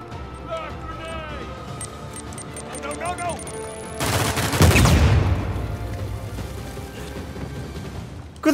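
A burst of Uncharted 4 video game gunfire erupts midway with a loud, dense crackle that decays over a couple of seconds, following synthetic chirps and beeps, with talk around it.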